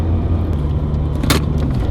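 Mazda RX8 rotary exhaust fitted with a midpipe, heard while driving: a steady, loud low rumble throughout with a brief burst of hiss near the end.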